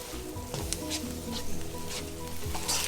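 Onions sautéing in a pan for chicken bhuna give a soft, continuous sizzle with a few faint pops, set against a steady tonal background.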